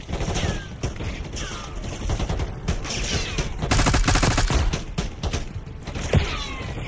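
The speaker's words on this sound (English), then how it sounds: "They is shooting, and they not missing, bro." Heavy gunfire from a Call of Duty Black Ops 6 campaign battle, dense bursts of automatic fire and repeated shots pounding on without pause, loud and close throughout, rising to a fiercer volley midway.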